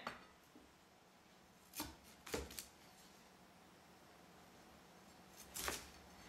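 A knife chops broccoli into bite-sized pieces on a cutting board, giving a few faint, scattered crisp cuts separated by quiet pauses.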